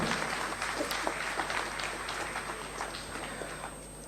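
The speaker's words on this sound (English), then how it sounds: "Let's give a huge round of applause to Dr." Faint, steady applause from a conference audience greeting a speaker, a soft continuous patter of many hands heard from a distance in a large hall.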